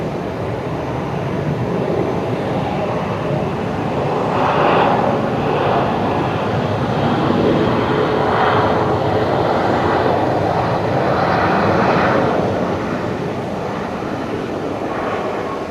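Boeing 737 landing at Brisbane Airport at night, engines roaring in reverse thrust: a loud, broad, sustained rumble and roar swells and ebbs over a long stretch without a break.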